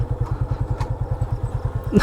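A motorcycle engine idles close by with a steady, fast, throbbing putter.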